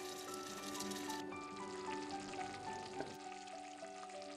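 Chopped onion stews in hot oil with half a glass of water added, giving a faint, steady bubbling simmer with soft crackle and a low background hum.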